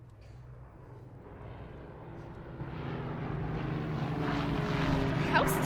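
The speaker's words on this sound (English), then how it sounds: "The more planes, the sooner the war will be over." Staged sound effect of airplanes passing overhead during a school theater production of The Diary of Anne Frank: a low droning rumble that swells steadily louder over several seconds, with faint voices beneath.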